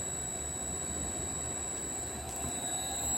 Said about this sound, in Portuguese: o motor nesse momento ele está operando com velocidade plena, com velocidade nominal